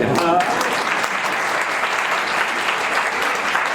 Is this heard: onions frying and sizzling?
no